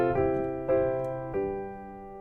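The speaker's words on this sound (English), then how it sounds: "Here's the sound of a major key." A musical instrument sounds three sustained tonal chords in a major key, each struck and left ringing, evenly spaced and fairly soft, alone without talk.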